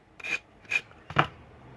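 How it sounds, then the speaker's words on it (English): Sanding block rasped over napkin decoupage on a seashell, three short, separate scrubbing strokes close up, with quiet pauses between them. "just go over with your sanding block"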